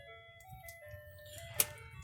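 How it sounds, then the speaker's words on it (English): An ice cream truck's tinkling chime melody plays faintly in the distance on a city boulevard, thin tonal notes drifting over low street rumble. "Fucking ice cream truck."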